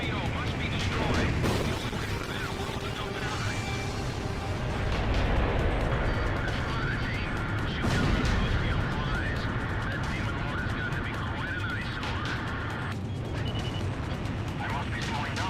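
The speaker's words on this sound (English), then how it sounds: "allowing you to bomb anything, including air targets in Ace Combat 0, as I show here" Bombs explode in the combat flight game Ace Combat Zero amid dense, continuous battle noise: repeated heavy blasts and gunfire, with radio-style voices talking throughout.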